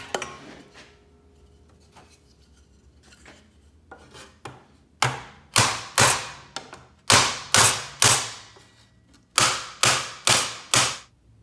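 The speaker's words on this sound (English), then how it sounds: "I'm going to take the hammer and bang it up" Hammer blows ringing on sheet metal held over angle iron for a toolbox build, a quiet stretch of light taps first, then about a dozen loud, sharp metallic bangs in quick bursts, close and alone.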